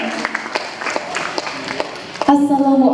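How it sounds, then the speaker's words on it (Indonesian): Scattered claps from an audience at a literary festival workshop build and break into a brief burst near the end, with a voice over a speaker system partly covering them. "Boleh berikan tepuk tangan yang meriah untuk kita semuanya."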